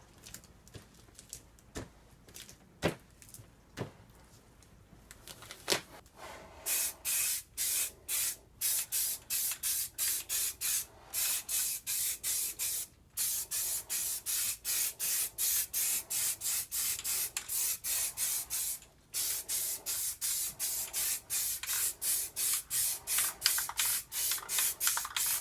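Spray paint hisses from an aerosol can onto a Necromunda Warhammer gaming table through stencils: a few short bursts, then a long run of rapid, evenly spaced sprays close to the microphone, with a brief pause near the end.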